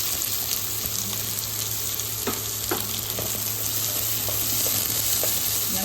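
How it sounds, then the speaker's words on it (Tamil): Onions fry in hot oil with mustard seeds, urad dal, green chillies and curry leaves for thavala adai, giving a steady close sizzle with occasional stirring scrapes and no voices. "வெங்காயம் நல்லா வதங்கணும்."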